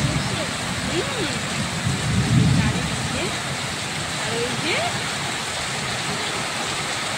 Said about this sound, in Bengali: এখন তো ঝমঝম করে বৃষ্টি হচ্ছে